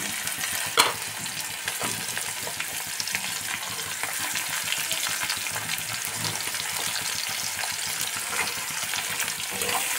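Chopped onions frying gently in oil with garlic give a continuous close sizzle, with light stirring scrapes and one sharper clink early on.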